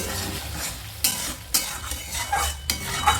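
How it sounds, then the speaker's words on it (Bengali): Potatoes being stirred in a pan on the stove, a spoon scraping and clanking against the metal several times over a steady soft sizzle, close and with no talk. "সরিয়ে দেওয়ার পর আবারও ভালো করে নাড়াচাড়া করে নিচ্ছি।"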